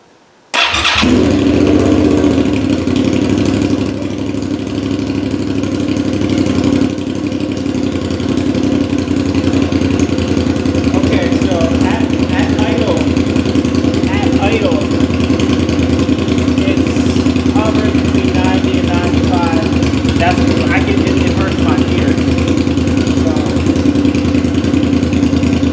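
A 2005 Suzuki SV650 motorcycle engine with a Delkevic SL10 exhaust starts up close and loud, then idles steadily with a deep, throbbing rumble and occasional light revs throughout.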